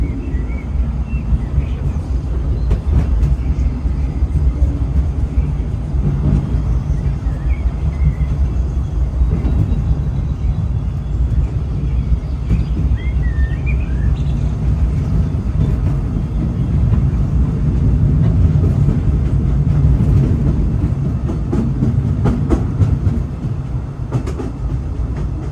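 Continuous heavy rumble of a mine-train theme park ride rolling along tracks at Disneyland, with rattling and clacking throughout, loud and close, no pauses.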